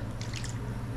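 Water pours steadily into a cooking pot over fish, a continuous close splashing gush with a low hum underneath and no talking.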